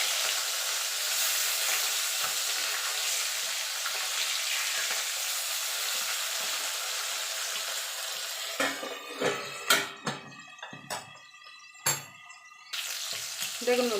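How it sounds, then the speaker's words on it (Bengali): Bhola fish fry crisp in hot oil with a loud, steady hissing sizzle, then the frying quiets into sharp utensil scrapes and clanks against the pan before the sizzle returns. "মাছগুলো আমি একটু কড়া করেই ভাজবো, কারণ ভোলা মাছ একটু নরম তো"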